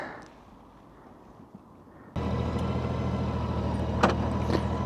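A Honda F6B Goldwing motorcycle pulls away on a mountain road, its engine note suddenly rising to a steady, loud drone with wind rush after a quieter idle.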